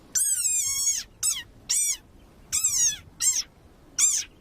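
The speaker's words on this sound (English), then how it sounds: "Like this desert rain frog. Squeaking viral sensation." A desert rain frog gives six shrill, high squeaks in a row. The first is long and the rest are shorter bursts with short gaps between them, close up and clear with no other sound.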